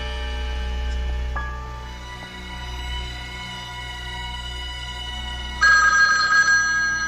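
A telephone bell rings in short bursts, near and clear, over a steady low hum with no talking.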